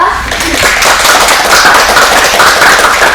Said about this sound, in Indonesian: Silakan beri tepuk tangan untuk kelompok 2